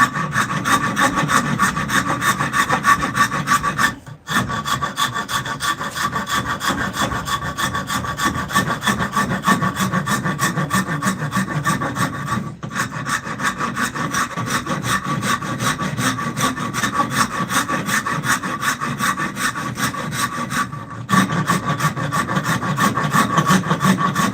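A hand saw cuts through wood for carving a spoon, with steady, rhythmic back-and-forth strokes close by and three brief pauses between bouts of cutting.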